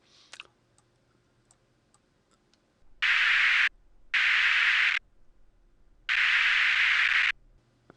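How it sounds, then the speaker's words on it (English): Bursts of white noise are added to audio in three loud, flat blocks, each about a second long with short silent gaps between, following a few faint clicks at the start. "You can hear I add a little bit of noise to it."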